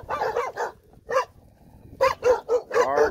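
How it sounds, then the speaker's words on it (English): Guard dog puppies barking in short, sharp yips, a couple of quick barks, a pause, then a rapid run of four or five close, loud barks. "That's some guard dog puppies there."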